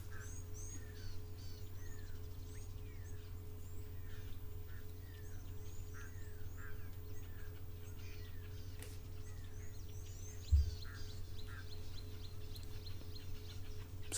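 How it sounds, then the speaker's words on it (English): Distant bird calls carry across a waterhole, including a grey go-away bird, as faint repeated chirps and whistles over a low steady hum, with no talking. "I can hear a go-away bird"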